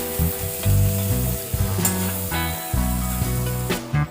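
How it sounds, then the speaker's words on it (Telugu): Ridge gourd pieces fry in a pan with cooked tomatoes for a moong dal dish, giving a steady, close sizzle with stirring scrapes throughout and no talking. "ఇప్పుడు కట్ చేసి పెట్టుకున్న బీరకాయ పీసెస్ యాడ్ చేసుకుందాం."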